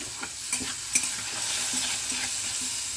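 Half a spoonful of ginger and green chili paste fries in a pan for a village-style radish and potato curry, a steady loud sizzle with stirring scrapes, no voices.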